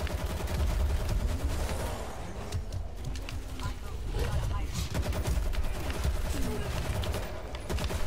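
Rapid gunfire and explosions in the zombie shooter World War Z, a dense continuous barrage with voices talking over it throughout.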